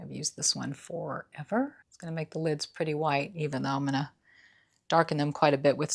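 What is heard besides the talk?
No everyday noise stands out behind the speech.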